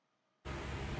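Electric fan background noise: near silence for a moment, then a sudden, steady, loud broadband hiss that holds without change.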